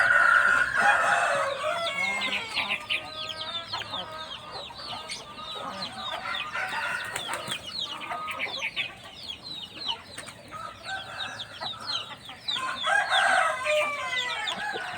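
A flock of chickens clucks busily nearby, with roosters crowing over the constant chatter.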